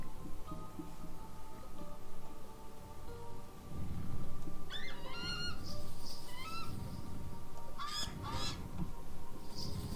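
Several honking, goose-like duck calls break out in short clusters over a steady rumbling Age of Mythology soundscape, fairly close and moderately loud.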